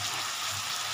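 Ghee sizzles steadily in a frying pan with prawn curry, a bright continuous crackle close by. No one talks.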